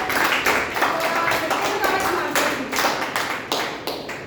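Applause from an audience at a Toastmasters club meeting, a dense patter of many hands clapping steadily for the whole stretch at moderate loudness, with faint voices mixed in.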